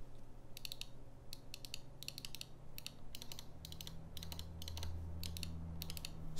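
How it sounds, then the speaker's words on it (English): Clusters of crisp, fast clicks from the mouse 1 and 2 buttons of a Razer Viper ambidextrous gaming mouse, sounding in quick bursts of several clicks at a time, close-up and alone over a low hum. "I'll give you guys a click test on that right now. So this is your mouse 1 and 2."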